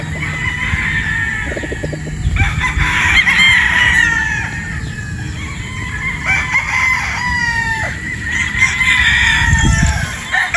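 Boston Roundhead broodstag roosters crow repeatedly, several loud, close cock-a-doodle-doo calls overlapping with clucks and rustling throughout.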